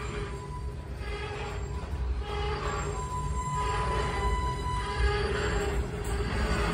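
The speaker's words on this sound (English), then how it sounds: "While this train comes to a stop" An Amtrak passenger train rolls in and slows to a stop, heavy low rumble with faint metallic wheel squeals and tonal whines building and holding steady nearby.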